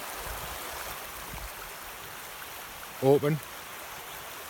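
A brook flows steadily nearby, giving an even rushing, trickling wash of water throughout, with a brief voice cutting in once near the end.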